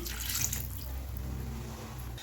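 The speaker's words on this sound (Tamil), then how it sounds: "இப்போ வந்து புளி தண்ணி வந்து ஆட் பண்ணிக்கலாம்." Tamarind water splashes and pours steadily into a cooking pot for a couple of seconds, close by, with a low background hum and no talking.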